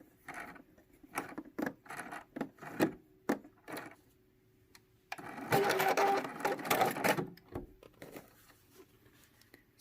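A sewing machine stitches elastic down onto a fabric-covered junk journal, running in short bursts of rapid needle chatter and then one longer continuous run, close by with no talking.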